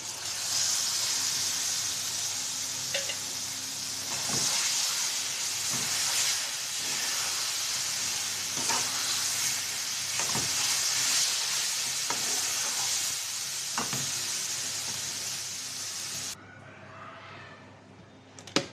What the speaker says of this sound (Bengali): কচু বাটাটা দিয়ে দেবো